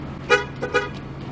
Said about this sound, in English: Honk and they shall come